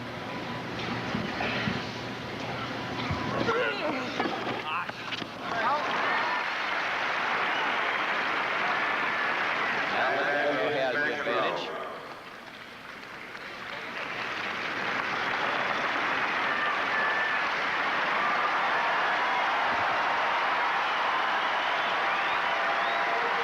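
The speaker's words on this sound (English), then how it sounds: "Encouragement of the crowd." A large tennis crowd at the 1982 Masters final between Lendl and McEnroe applauds and cheers in a broad, roaring wash that dips briefly midway, then swells again and holds.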